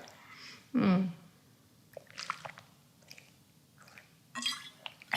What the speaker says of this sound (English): So I'm going to have a sip of water before we start.